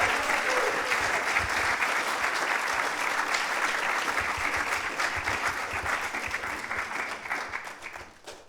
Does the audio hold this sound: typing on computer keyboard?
no